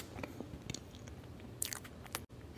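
Someone bites into and chews a piece of chocolate tiramisu cake up close, with soft, moist bites and a few small crunchy clicks in a quiet room.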